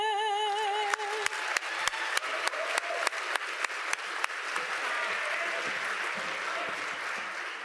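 Audience applause at a Lenape Regional High School District Student of the Month ceremony, a steady full-room clapping that holds throughout with sharp individual claps standing out, following a sung anthem ending.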